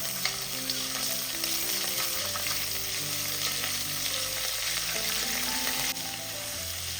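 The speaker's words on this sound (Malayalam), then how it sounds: "ഇതിൻ്റെ പച്ചമണം മാറുന്ന വരെ ഒന്ന് ഇളക്കി കൊടുക്കുക." Ginger garlic paste frying over a medium flame while being stirred, a steady close sizzle running throughout with scraping of the stirring, alongside tonal music.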